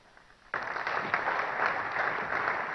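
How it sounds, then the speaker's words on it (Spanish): An audience at a 2015 presidential candidates' forum in Antigua breaks into applause after a short quiet, dense steady clapping that holds to the end. "Un fuerte aplauso para la licenciada Lejos"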